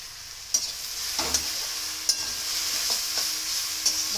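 Jute-leaf dal being stirred in a pan after salt and turmeric go in, a low sizzle under several sharp spoon scrapes and knocks against the pan at irregular intervals.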